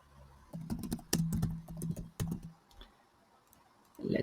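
Quick bursts of close computer keyboard typing, sharp clicky keystrokes in short irregular runs with a pause partway through and a soft knock at the end.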